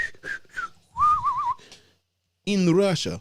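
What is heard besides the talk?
person whistling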